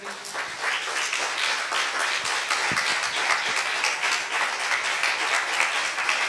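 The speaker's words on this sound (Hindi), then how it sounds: "जोरदार तालियां, तालियां बहुत कम है।" A church congregation claps together in a hall, a dense steady patter of many hands held at an even level for several seconds, with no one speaking over it.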